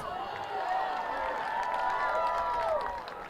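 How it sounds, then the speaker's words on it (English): Fans at a boys' regional final soccer match applaud a ball boy's catch, a swell of clapping and crowd noise with whistled cheers, rising then fading. "And a big applause coming in"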